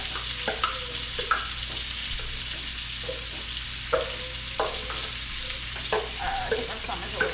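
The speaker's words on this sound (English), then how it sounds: "I have my skillet on a low heat right now, and the bacon is actually looking pretty close to done" Bacon frying in a skillet over low heat gives a steady, even sizzle, with a few soft scrapes and taps from a utensil scattered through it. No one speaks.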